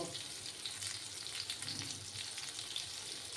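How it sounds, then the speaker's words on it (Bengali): Eggplant slices fry in hot oil over a high gas flame, giving a steady, dense sizzle with no speech, its crackle rising and falling only slightly throughout. "একটু লাল লাল করে আমি বেগুনগুলো ফ্রাই করে নেব"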